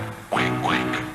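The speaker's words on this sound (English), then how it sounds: "Everyone thinks they're such sweet little ducks, ducks." A duck quacks several times in quick succession, clear and fairly close, with each call rising and falling in pitch over a low background hum.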